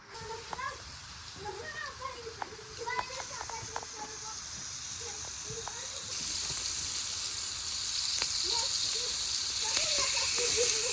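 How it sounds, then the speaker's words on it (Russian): Marinated food sizzles steadily on a gas grill outdoors, a continuous hiss that grows louder partway through, while people talk nearby over it. "у Мустафы газовый мангал"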